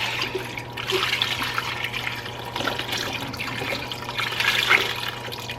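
A quart of beef broth poured into a pressure cooker for Chicago-style Italian beef, a continuous splashing, gurgling pour over a low steady hum, no talking.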